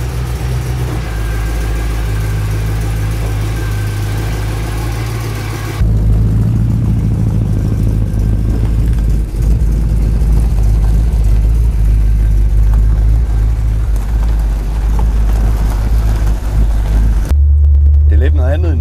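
A hot rod's engine idles with a deep, loud rumble, then shifts to a changed engine note as the car drives off, with a brief louder burst near the end; voices talk over parts of it.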